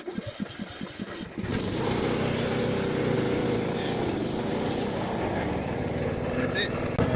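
A Craftsman 42-inch gas riding lawn mower cranks over with a few rhythmic starter chugs, then its engine catches on a cold start with the choke set and settles into a loud, steady run.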